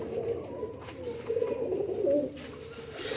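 Teddy pigeons cooing in a low, steady, murmuring drone, several birds overlapping close by with a rise in the middle and no speech.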